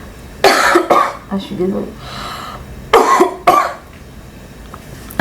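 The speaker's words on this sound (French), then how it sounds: "j'ai envie de tousser" A woman coughs in two separate bouts of harsh, close bursts with some throat-clearing between them, then speaks briefly.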